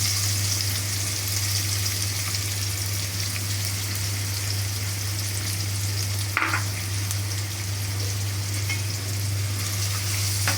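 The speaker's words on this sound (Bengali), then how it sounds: "পেঁয়াজটা আমি ভালো করে ভেজে নেব" Chopped onions and cinnamon fry in hot oil, giving a steady, dense sizzle that runs close and unbroken throughout, with a low constant hum beneath and a brief knock near the end.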